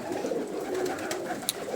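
Pigeons coo softly and continuously nearby, a low murmuring drone with a faint click or rustle partway through.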